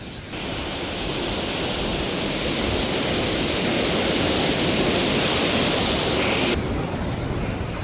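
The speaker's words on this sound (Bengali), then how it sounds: "দেখো একবার জলের স্রোত, প্রচন্ড জলের স্রোত" Strong river current rushing near Manikaran, a loud, dense, continuous roar of water close by, steady throughout with no voices.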